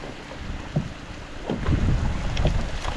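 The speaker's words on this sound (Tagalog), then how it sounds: "Lakas ng hangin." Strong wind gusting outdoors at a waterside spot during rain, a steady broadband roar buffeting the microphone that swells louder midway and keeps rushing to the end, with no voices.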